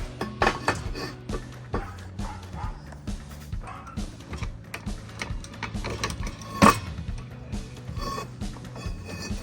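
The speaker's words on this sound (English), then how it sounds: "I'll break out my high-speed bender right here" A high-speed bender shapes a metal strip for a welded transmission cover during an SM420 swap on a Willys Jeep CJ2A, with close metallic clinks and clanks, a low mechanical hum and one sharper knock near the end.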